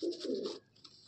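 A domestic breeding pigeon coos loudly in a short burst close by, the low throaty call fading to quieter trailing sounds.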